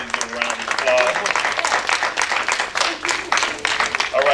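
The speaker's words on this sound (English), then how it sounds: "Please give a round of applause." Audience applause at a Marin City resident meeting on preserving Golden Gate Village, a steady round of clapping from the room with a voice talking over it.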